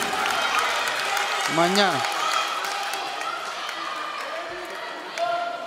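Warm applause from the crowd at a women's handball match between Norway and Greece, a steady wash of clapping under continuous commentary, with a brief whistle-like tone rising and falling midway.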